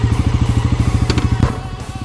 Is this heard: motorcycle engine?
yes